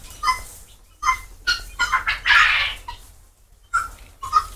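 Chickens on a poultry farm clucking and calling in repeated short bursts, some near and fairly loud, with brief pauses between calls and no talking.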